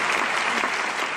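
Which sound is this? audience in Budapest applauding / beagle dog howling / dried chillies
audience in Budapest applauding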